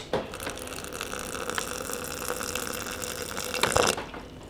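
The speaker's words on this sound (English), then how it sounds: "I'm gonna add a bit of water just to give it a bit more of a consistency" Water pours steadily in a continuous splashing stream, close by, swelling briefly louder near the end before cutting off.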